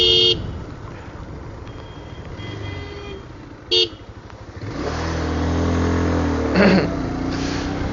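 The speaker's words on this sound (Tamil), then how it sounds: "ஸோ ஹார்ன் சேம் நல்லா லவுடாக இருக்குது." Two short, loud honks from the horn of a 2025 Bajaj Pulsar 220F motorcycle, heard close over the bike's idling and revving engine.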